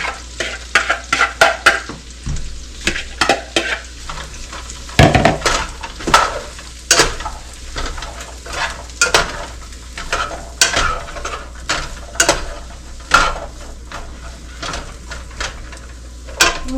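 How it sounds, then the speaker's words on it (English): Vegetables hit a hot pan and fry with a constant sizzle while a utensil stirs and scrapes them in repeated sharp clatters, loud and close over about seventeen seconds, with no talking. "Now that is hot. I put my vegetables in here."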